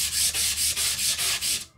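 A stick of drawing charcoal rubbed back and forth on a piece of sandpaper, a close, steady rasping scrape in about seven even strokes with no talk.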